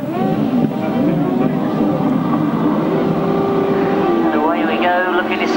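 Grasstrack racing motorcycles roar off a clutch start at a 1995 international short-track meeting, a dense, continuous engine drone with rising revs near the end, under a commentator's voice.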